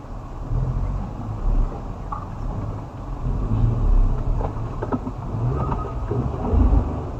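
A vehicle passing on a forest road in Jim Corbett at night, a low rumbling engine drone rising and falling over several seconds, heard from inside a moving car with steady road noise.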